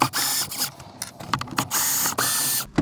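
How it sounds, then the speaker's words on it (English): Screws are backed out with a screwdriver inside a campervan glove box, producing irregular close ratcheting clicks, scrapes and short whirring bursts of turning. "So take these screws out and we'll go from there."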